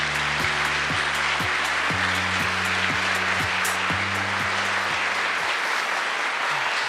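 An audience at a Korean government policy-agenda reporting ceremony claps in a dense, sustained burst of applause that holds steady at full loudness, with low tonal stage music running underneath.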